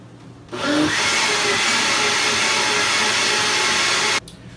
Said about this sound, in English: we're gonna blend that up a little bit